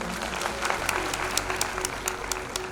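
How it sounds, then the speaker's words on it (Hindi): Steady applause for Dr Ajay Sharma at a celebration in Mumbai, a continuous patter of many hands clapping with sharper individual claps standing out, moderately loud and unbroken throughout. "डॉक्टर अजय शर्मा सर के लिए एकदम जोरदार ताली होनी चाहिए"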